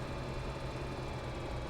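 Tractor engine idling in the Farming Simulator 2013 video game, a steady low droning hum held evenly throughout with no variation.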